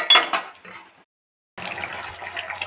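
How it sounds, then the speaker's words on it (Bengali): Cauliflower pieces dropped into a pot of simmering curry broth, a brief burst of clattering splashes and metallic pot knocks, then a pause before steady bubbling and sizzle resumes close by. "এবার আমি কপিগুলো দিয়ে দিলাম"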